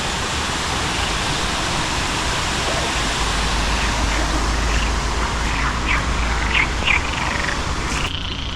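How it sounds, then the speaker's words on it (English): Frogs croak at a tadpole and mosquito-fish pond at Crocoparc in Agadir, Morocco, with faint, scattered calls poking through the steady roar of a nearby waterfall. "Oh, Frogs."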